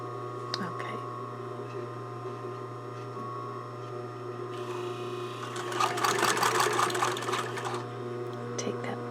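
A sewing machine runs while back stitching a dart on a blouse, a steady low mechanical hum rising into a louder, busier whir in the middle and continuing to the end.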